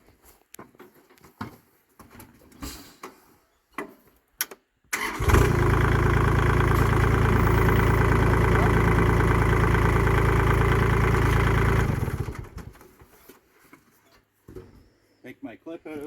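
The engine of a Kubota B2601 compact tractor starts and runs at a loud, steady idle for about seven seconds, then shuts off, with scattered clanks and handling noises before and after.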